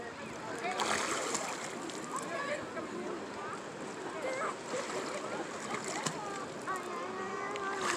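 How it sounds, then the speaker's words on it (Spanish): River water splashing and churning steadily at close range, a continuous rushing wash with occasional sharper splashes while voices talk nearby. "Estamos en el río"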